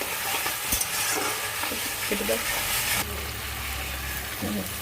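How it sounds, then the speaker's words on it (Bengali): Tomatoes fry in a pan for a Bengali cottage cheese curry, a continuous loud sizzle with stirring scrapes and knocks close up; a brief voice is heard faintly. "টমেটোটা ভাজা হয়ে গেছে,"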